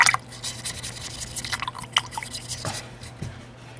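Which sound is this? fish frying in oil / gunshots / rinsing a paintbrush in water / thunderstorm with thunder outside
rinsing a paintbrush in water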